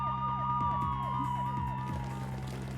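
Several police car sirens wail outside in the Spirit of Justice video game, overlapping rising and falling tones sweeping together, loud and continuous.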